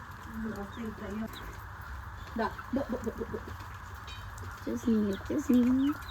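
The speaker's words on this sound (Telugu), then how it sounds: "కోళ్ళు మాత్రం బాగా పెంచుద్ది" Chickens cluck in short repeated bursts around a village home, fairly close, with people talking nearby.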